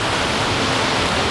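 Large ocean waves breaking on the coast at Catherine Hill Bay, New South Wales, heard as a loud, continuous roar of surf with no one speaking.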